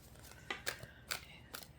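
Scissors snipping through material in a handful of sharp, separate cuts, roughly four crisp snips spaced across a couple of seconds over a quiet background.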